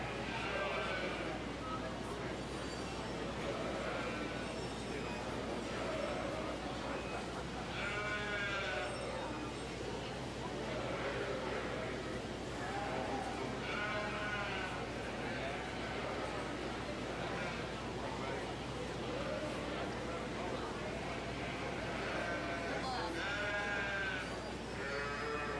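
Ewes bleat repeatedly at a 4-H sheep show, several calls rising over a steady crowded hall background while an announcer and other people talk throughout.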